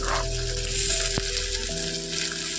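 Sliced eggplant sizzles in hot oil in a pan with chopped onion and two green chilies for a Bengali dry curry, a steady close-up frying hiss with no talking.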